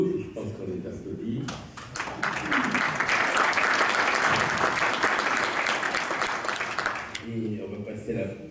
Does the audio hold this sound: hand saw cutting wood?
no